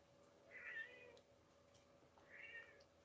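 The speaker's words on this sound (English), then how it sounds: "My kitty cat's meowing if you hear her." A pet cat meows twice, soft and somewhat distant, each call a brief rising-falling mew separated by about two seconds of quiet room tone with a faint clink between.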